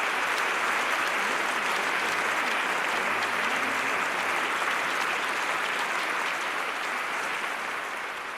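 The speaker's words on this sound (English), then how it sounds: "Plenty of crowd support here." Stadium crowd applauding in the London 2012 Olympic video game, a dense, sustained roar of clapping that stays loud and even throughout, tapering slightly at the end, with no voices on top.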